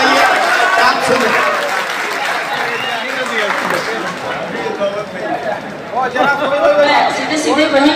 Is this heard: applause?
yes